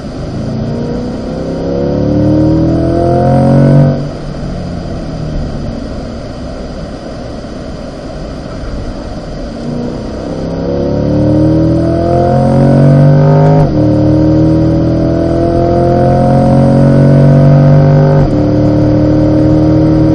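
A 2020 Chevrolet Corvette C8 driven hard around an autocross course on the Spring Mountain track, its engine loud and close, revving up through the gears and dropping on downshifts in repeated sweeping cycles.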